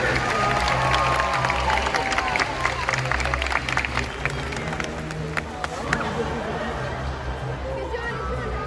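A crowd applauds and cheers loudly for two volunteers at a SeaWorld show, with steady clapping and chatter filling the space for several seconds before fading slightly.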